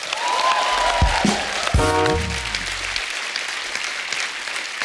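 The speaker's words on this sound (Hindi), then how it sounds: "इस बात के लिए तालियां पहले तो" An audience applauds steadily throughout, a dense wash of clapping hands with a few brief louder accents near the start.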